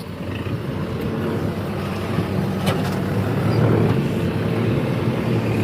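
A farm tractor drives along a dusty track, its engine giving a steady, fairly loud drone that holds without breaks, with no talking.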